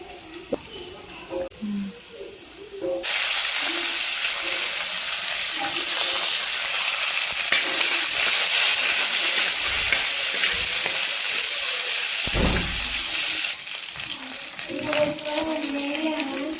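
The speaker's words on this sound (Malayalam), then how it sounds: "ഉള്ളിയുടെ ഒപ്പം കുറച്ച് വറ്റൽമുളകും ഇട്ട് അതൊന്ന് മൂത്ത് വന്നതിന് ശേഷം നമുക്ക് കടുകും കരിവേപ്പിലയും ഈ ശകലം പൊടിയും കൂടി ഇട്ട് ഇളക്കി" Onions, dried red chillies, mustard seeds and curry leaves fry and sizzle loudly in a pan for beef curry tempering, with steady hissing and occasional stirring scrapes, brief clatter and quieter moments at the start and end.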